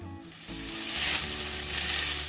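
Ground beef browning in a skillet, a loud, steady sizzle that swells after a short start, heard close with no talking.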